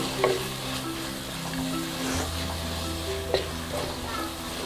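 Finely chopped garlic, four or five cloves, fries in hot oil in a pan for a Kerala-style pineapple fish curry, a steady sizzle with a few sharp scrapes of stirring, close and fairly loud with a low hum beneath.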